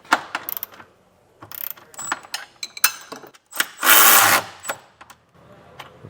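Socket wrench tightening trailer hitch bolts on a 2021 Hyundai Palisade, with close, irregular ratcheting clicks in short bursts and a louder sustained burst midway.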